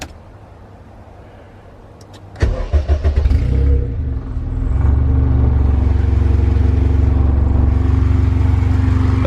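A Honda CRX with a swapped K20A2 engine cranks briefly, catches and fires loudly, then settles into a steady, close idle.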